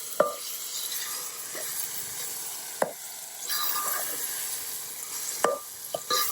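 Potatoes frying in oil in a pan give a steady low sizzle, punctuated by a few sharp clinks and scrapes of a utensil against the pan.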